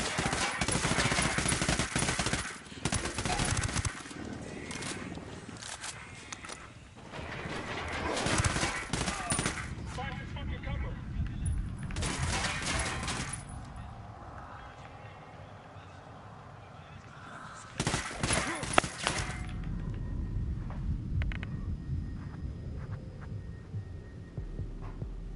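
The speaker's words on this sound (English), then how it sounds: "Tango heard the gunshot." Gunfire in the shooter game Ghost Recon Wildlands, loud bursts of rapid automatic fire in several separate volleys, broken by quieter stretches of low hum and faint game voices.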